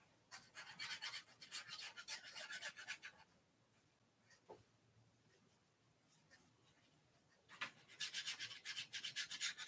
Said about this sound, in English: And I'm rubbing off the excess.